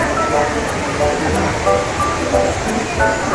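Daranak Falls waterfall in Tanay, Rizal, a popular swimming spot, gives a steady loud rush of falling water with crowd voices and chatter mixed throughout.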